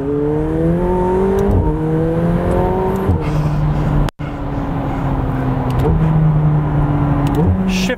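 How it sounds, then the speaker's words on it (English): A McLaren 720S engine drones steadily with turbocharger whistle while driving, a sustained close tone rising and falling slightly with throttle, with a brief dropout around the middle. "the turbo note, the whistle from the turbochargers is one of the coolest sounds"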